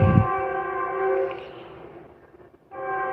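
Train rumbling past close by near the tracks, a steady tonal roar with horn-like harmonics that swells, fades briefly, then returns, heard alone without voices.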